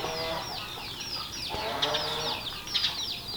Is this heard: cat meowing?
no